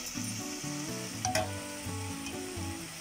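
Masala fries over a lowered flame in a pan for Punjabi chole, a continuous moderate sizzle with stirring and a brief utensil knock partway through.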